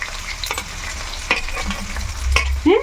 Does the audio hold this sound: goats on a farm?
no